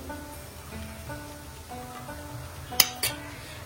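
A spoon stirs the filling for koraishutir kochuri (pea kochuri) in a pan over low sizzling, ending in two sharp metallic scrapes and clinks near the end, close and fairly quiet, with no voices.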